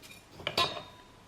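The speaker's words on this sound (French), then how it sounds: "Je vais mettre 5 cuillères à soupe de flocons d'avoine." Spoon scraping and clinking against a saucepan as oat flakes go in for porridge, two quick close metallic clinks in a short burst, no talking.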